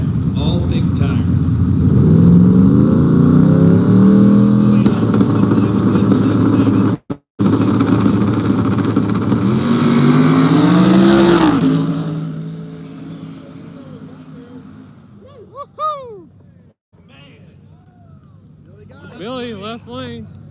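No-prep drag race cars launching side by side down the track at an outdoor event, a loud sustained engine roar that rises in pitch and fades into the distance, followed by a track announcer talking.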